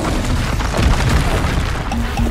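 A loud, dense explosion from the Confringo fire spell in Hogwarts Legacy, a sustained booming rumble with crackling debris across the whole clip.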